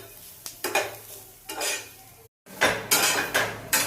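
Onion roasts in a pan for an egg gravy masala, heard as repeated scraping stir strokes with a spoon against the pan over a light sizzle, briefly broken by a silent gap; no talk.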